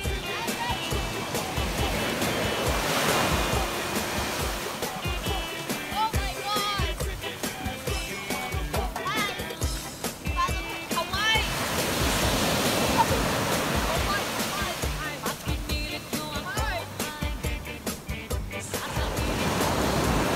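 Steady roar of waves breaking on a beach, continuous and fairly loud, with faint voices mixed into the surf.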